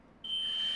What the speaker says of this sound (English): The fire alarm was on the whole time.